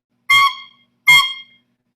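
A recorder overblown by a young school music student gives two short, shrill squeaking blasts, each about half a second long and separated by a brief pause.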